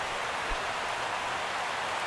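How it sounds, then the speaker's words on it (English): Steady, even rain hiss falling over Dodger Stadium in the baseball video game MLB The Show 16, a continuous broadband wash with no distinct drops or other sounds. "Rain falling here at Dodgers"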